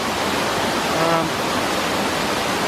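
Mountain stream water in the Kaimai Range rushes in a steady, loud, unbroken wash of broadband noise, close by, with only a faint hint of a voice midway.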